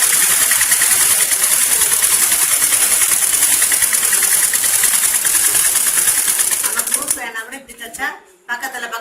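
A sewing machine stitches a blouse in a close, loud, steady whir that runs for about seven seconds, then slows and stops with a few short stutters.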